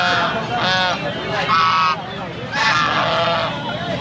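Ducks calling at a busy market, several loud nasal honking quacks in bursts close by, with voices of people talking in the background.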